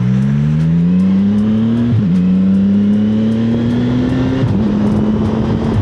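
A CFMoto 675SS motorcycle pulling away from a stop on a road, its engine climbing in pitch through two gear changes, loud and close with steady wind rush and no talk.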